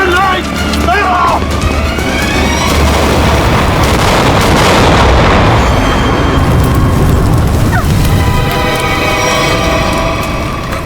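A loud grenade blast at a petrol pump roars into a long, rumbling, debris-filled boom that swells and lingers for several seconds before fading, with a dramatic music sting over it.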